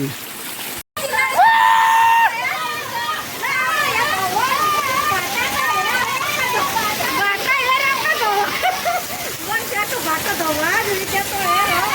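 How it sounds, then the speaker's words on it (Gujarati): Heavy rain mixed with hail pours down on Karanjadi village, a steady wash of falling water running the whole time beneath excited shouting and raised voices of villagers. "કરંજળીમાં અતિ ભારે વરસાદ પડતા કરંજળીના લોકોમાં હાહાકાર મચી ગયો અને બરફ બહુ પડી છે"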